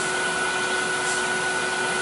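A wood lathe spins at high speed, about 2000 RPM, as a finish is burnished into a turned piece, giving a steady close whirring hum with fixed tones and no talk.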